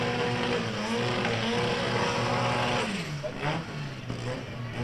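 A turbocharged 4-cylinder 16-valve VW Mark 1 drag racing car at a drag strip, a loud sustained engine roar that drops in pitch partway through, heard from a distance with crowd-like background.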